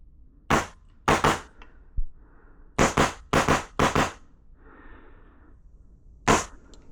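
Airsoft gun fitted with a Heretic Labs tank grip firing about eight sharp, loud shots in uneven bursts, singles and quick pairs, with brief faint mechanical noises between them and no talk.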